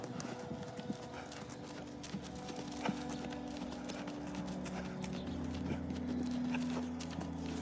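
A horse cantering, its hooves beating out a steady, fairly quiet clip-clop rhythm throughout, with a few sharper hoof strikes standing out and no talk over it.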